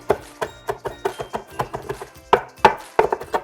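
A knife finely mincing cilantro on a cutting board, crisp rhythmic chops close up, about a dozen evenly paced strikes with a few louder hits near the end.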